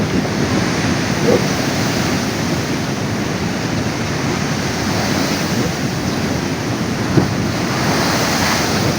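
Strong sea waves crash and roar continuously during a storm, loud and close, mixed with heavy wind buffeting the microphone throughout.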